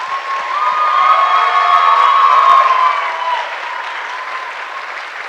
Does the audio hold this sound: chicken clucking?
no